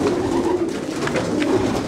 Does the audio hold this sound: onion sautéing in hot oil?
no